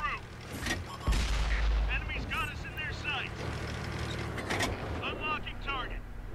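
A Comet tank's cannon booms in World of Tanks, one heavy low blast amid mechanical clatter and battle noise, while a voice talks over it.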